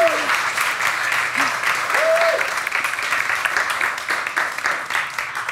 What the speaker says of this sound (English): Let's have a big round of applause for Annalee Newitz.